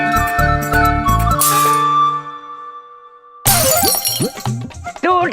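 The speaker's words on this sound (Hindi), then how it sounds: "विचित्र है हमारे बबलू के पापा, अपनी घर का शीशा तोड़कर प्रसन्न हो रहे हैं" A household glass window pane shatters loudly, a sharp crash followed by a long ringing tinkle of falling shards that fades out, then a burst of laughter and lively voices after a pause.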